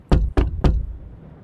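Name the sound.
knock at a door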